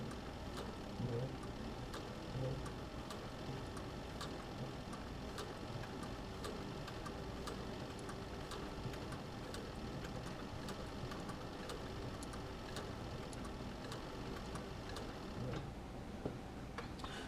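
A sewing machine stitches a leather bucket tote bag, a steady fast mechanical ticking and whirring that runs continuously at moderate level, close by and without talk.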